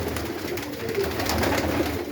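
Soft, low pigeon cooing repeats over a steady background hum, no voices present.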